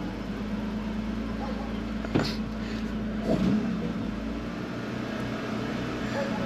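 A BMW E36 325i fitted with an M3 intake idles steadily while warming up, a constant low engine drone close by with a couple of brief bumps partway through.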